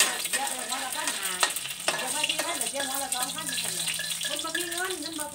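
An egg frying in a pan at a small food shop in Isan, Thailand, with a steady hiss and crackle of hot fat and scraping stirs, while voices talk over the sizzle.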